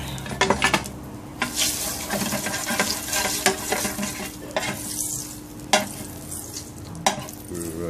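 Lobster frying in garlic butter in a hot pan, a steady crackling sizzle with repeated sharp scrapes and clinks of a utensil stirring against the pan, close and continuous with no talking.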